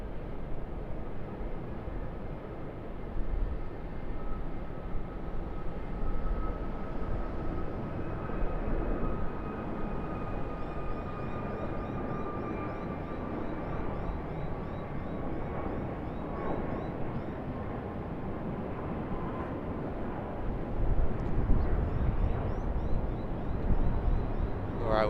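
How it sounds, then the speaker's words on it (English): Jetstar Airbus A321neo rolling for takeoff on runway 34 left at Sydney Airport, a distant broad jet roar with a faint engine whine that grows slightly louder toward the end. "Jetstar A321neo rolling 34 left"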